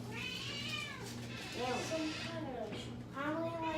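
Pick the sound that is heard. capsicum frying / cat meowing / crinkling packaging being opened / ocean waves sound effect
cat meowing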